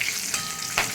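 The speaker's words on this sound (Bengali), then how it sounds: "এবার এটাকে একটুখানি 1 সেকেন্ড মতো আমি একটুখানি এটাকে ফ্রাই করে নেব" Cardamom, cloves and cinnamon pieces fry in hot oil with a brief, steady hiss and a couple of faint crackles.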